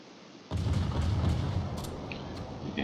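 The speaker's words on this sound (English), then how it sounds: "You can hear guns back behind my ship." Naval guns firing behind a warship in a naval battle game, starting with a sudden heavy boom followed by a rumbling roll of distant cannon fire and scattered fainter pops.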